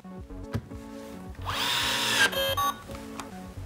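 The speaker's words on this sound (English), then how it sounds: "And there you can hear the electronic clutch kicking in." A Festool C 18 cordless drill whirs briefly, revs up as it drives in a screw, then stutters with quick ratcheting clicks as its electronic clutch kicks in before stopping; faint clatter around it.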